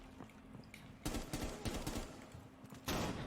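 A flashbang grenade detonates in Rainbow Six Siege, a sharp broadband burst followed by crackling gunfire-like rattles and a second loud blast near the end.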